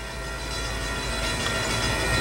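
Steady, loud rumbling roar of an Amtrak Surfliner passenger train passing close by at Carlsbad Village, continuous with no talk.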